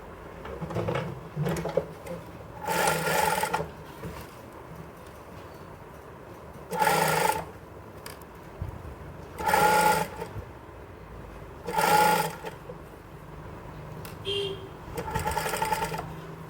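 A sewing machine stitches a ruffled sleeve in short separate bursts of rapid whirring, each lasting about a second, with pauses of handling and fabric rustle between them, heard close up.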